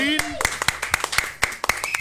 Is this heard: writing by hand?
no